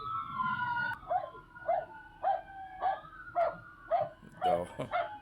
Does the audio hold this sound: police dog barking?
yes